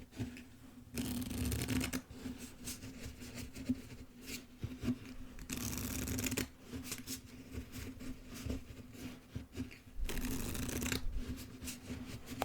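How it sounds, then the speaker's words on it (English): Playing cards are riffled and shuffled repeatedly before a game of solitaire, crisp fluttering bursts alternating with softer bridging and tapping, close up with no talking. "couple more shuffles and then we'll play"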